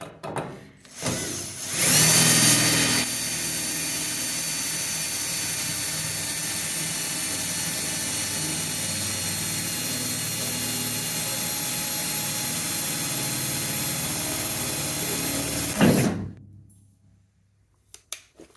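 A power drill drilling sheet metal on a 1969 bay window bus whines at a steady high pitch for about fourteen seconds after a brief start-up, then winds down and stops, leaving near silence.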